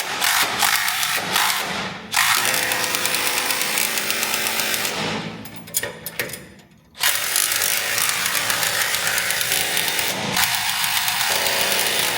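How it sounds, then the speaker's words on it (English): Cornwell ratchets are worked hard in a workshop, giving a loud, dense run of fast mechanical clicking and grinding, close by, with brief pauses between bursts. "I also got these Cornwell ratchets."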